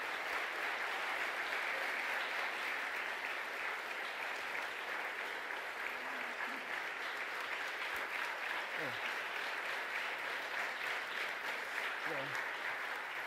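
Sustained audience applause at a Holberg debate hall event, a steady wash of clapping heard fairly faint and distant, continuing evenly without pause.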